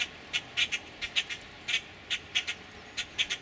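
Protective birds squawk and chirp near their nest in a garden, a rapid run of sharp, bright calls repeating in quick irregular bursts, fairly close and clear with no talking.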